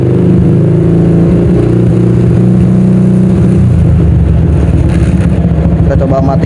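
A 2007 OJMX motorcycle engine, freshly tuned up, revs high with a loud, steady buzzing drone that climbs and grows rougher in its second half, close to the listener.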